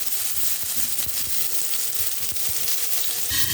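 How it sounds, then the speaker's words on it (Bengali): Potatoes fry in hot oil in a pan, giving a steady, close sizzle with a constant hiss and a few soft pops and stirring clicks, and no voices. "আলুটা ভেজে নিয়ে নরম করে লাল লাল করে তারপরে আসছি"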